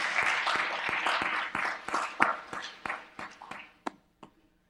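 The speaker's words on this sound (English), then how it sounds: "so let's just give them all a round of applause" A small audience at a health science career panel claps, starting dense and loud, then thinning into scattered individual claps that fade out within a few seconds.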